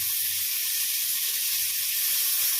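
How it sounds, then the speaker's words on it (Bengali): Ripe pointed gourd frying in a pan with turmeric and salt gives off a steady, close, unbroken sizzle, with no one talking. "পাকা পটলগুলো ভালো করে ভেজে নিচ্ছি একটু হলুদ আর নুন দিয়ে"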